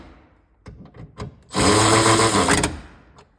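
Power driver tightening small M6 screws while fitting red Toyota 86 TRD seatbelts in a Scion FR-S: one loud, steady whirring burst of about a second, close up, with a few small clicks and handling knocks before it.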